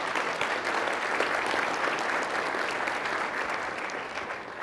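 Steady, loud audience applause fills a hall at a 2018 State of the City event, holding unbroken for the whole stretch with no voices over it.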